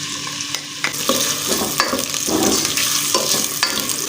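Onions hit a pot of hot oil with a bright crackling sizzle, punctuated by sharp stirring scrapes and knocks, close and fairly loud throughout.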